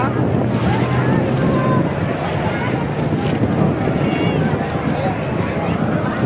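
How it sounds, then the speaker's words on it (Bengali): Ocean surf rolls onto Sugandha beach at Cox's Bazar at midday with crowds bathing, a loud, continuous roar of breaking waves mixed with gusty wind buffeting the microphone and distant murmuring voices. "কক্সবাজার সমুদ্র সৈকত"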